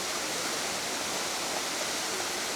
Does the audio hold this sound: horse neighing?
no